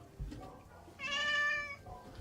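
A tabby cat at an animal shelter meows loudly once in a drawn-out, rising-and-falling cry near the middle, with faint shorter vocal sounds on either side.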